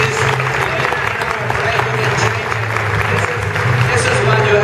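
Audience applause at a martial arts tournament, a steady wash of clapping sustained throughout with voices mixed in.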